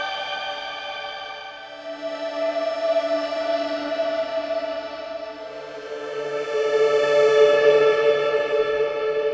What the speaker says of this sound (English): if you turn the reverb all the way up, you can get these massive shimmery effects